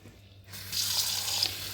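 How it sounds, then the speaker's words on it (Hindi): Cold tap water starts running from a faucet over boiled spaghetti in a colander, a steady hiss of splashing water after a brief quiet start. "अब ये ठंडा पानी आप इसको खोल दें"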